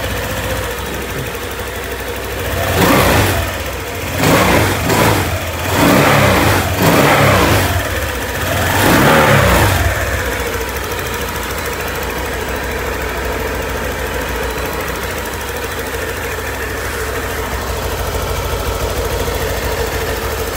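A Honda Vario 150 scooter engine, checked after a radiator leak repair, blips through several loud throttle revs in quick succession, then settles into a steady, even idle for the remainder.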